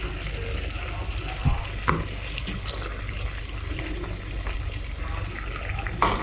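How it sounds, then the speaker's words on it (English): Sardines frying with onions in a pot for a Ghanaian garden egg stew: a steady, close sizzle fills the whole stretch, with a few sharp clinks and knocks of utensils against the pot. "so I'm going to add my sardine to it"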